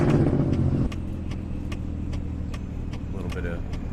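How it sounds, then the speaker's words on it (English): An American Truck Simulator truck, a K100, slows with its jake brake, a loud low rumbling engine drone that drops in level after the first second and continues as a steady throaty chug, with voices talking over it. "A little bit of jake brake there"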